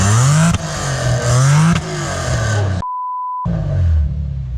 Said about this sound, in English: he's gonna give me a rev from the GS Supercharged